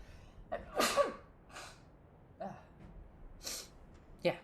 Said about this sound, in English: I have to sneeze again